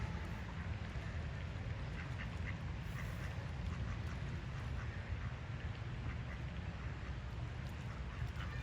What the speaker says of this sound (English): That duck is literally just slamming his head into the water.